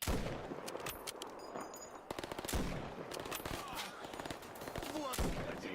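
Rapid gunfire from a sniper rifle in a video game, sharp cracks in dense bursts with echoing tails, loud and continuous, while a player talks over the shooting.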